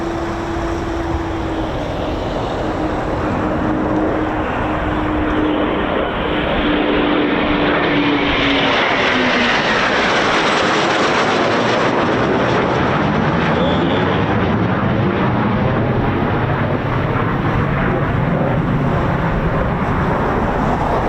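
A pair of Eurofighter Typhoon jets pass at RAF Coningsby with a loud, sweeping roar that shifts in pitch as they go by, swelling and then fading over a long stretch.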